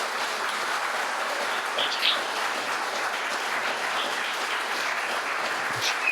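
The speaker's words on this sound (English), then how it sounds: "And our pay is the χειροκρότημα, is the clapping." Loud, sustained clapping from an audience at a theatre flag-raising event, a dense steady roar of many hands with a few faint chirps above it.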